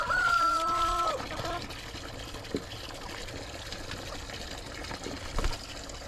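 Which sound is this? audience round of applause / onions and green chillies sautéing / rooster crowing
rooster crowing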